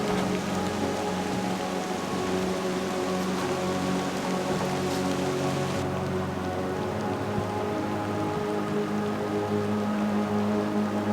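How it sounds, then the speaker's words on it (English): Steady rain falls during a backpacking trip, a continuous close hiss of drops on surfaces with a constant low background drone and no voices. "It's starting to rain pretty good"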